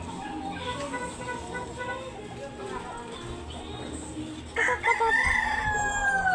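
A rooster crows loudly nearby near the end, following a stretch of quiet background noise.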